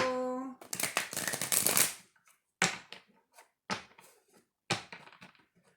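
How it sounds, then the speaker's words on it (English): A brief spoken phrase, then a rapid riffling burst of shuffled tarot cards followed by several separate soft slaps and taps as the deck is handled. "One more shuffle."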